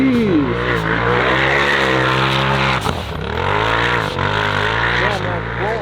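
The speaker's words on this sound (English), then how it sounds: "that blow-off valve sounds crazy" A turbocharged UTV with raised boost roars at full throttle, its engine note climbing and dropping with gear changes while the turbo blow-off valve sputters and whooshes, loud and close throughout.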